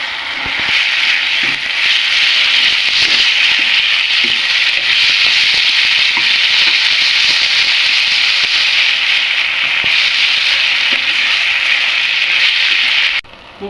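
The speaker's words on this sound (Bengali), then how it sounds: "এগুলো আমি ভালো করে কষিয়ে নেব।" Chicken bun filling sautéing in a pan, a steady loud sizzle and crackle running unbroken for over twelve seconds with no talk, cutting off abruptly at the end.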